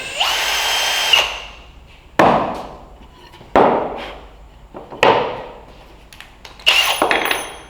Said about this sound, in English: with a masonry bit, slowly drill a hole so you don't tear the sheetrock